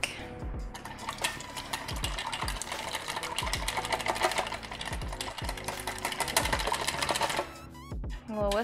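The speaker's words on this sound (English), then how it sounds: "A little whisk action." Brisk, rapid rhythmic clicking of a whisk beating cheesecake batter in a bowl carries on steadily for several seconds at close range before stopping near the end.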